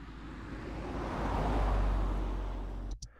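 A car sound effect laid onto footage of a street, a broad rumbling roar that swells to a peak midway as if passing close, then fades before a short sharp click near the end.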